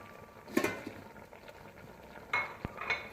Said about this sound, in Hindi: इसमें हम टमाटर और हरी मिर्चें भी डाल देंगे